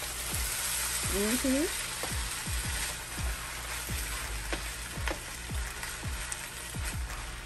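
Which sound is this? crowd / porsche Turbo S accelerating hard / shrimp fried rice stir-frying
shrimp fried rice stir-frying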